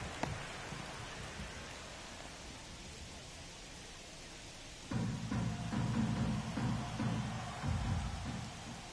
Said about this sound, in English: rain is still coming down